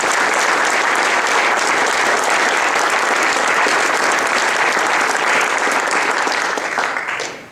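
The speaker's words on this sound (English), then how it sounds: "let's give them a round of applause" Applause from an audience at a motorsport event honouring a racing series, dense and sustained clapping at a steady level that tapers off at the very end.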